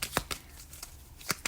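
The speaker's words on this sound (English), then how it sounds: "let me just shuffle your cards" Tarot cards being shuffled by hand, giving a few quick, crisp riffling bursts separated by short pauses, close and fairly clear with no talking.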